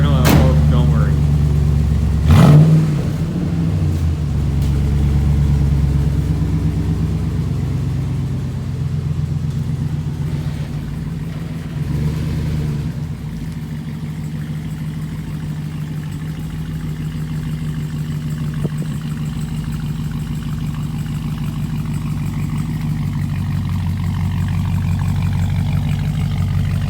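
A 2015 Ram pickup with the 6.4-litre engine and a Flowmaster FX exhaust idles outdoors on a chilly day, giving a deep, steady exhaust rumble with one brief rev near the start, close and loud throughout.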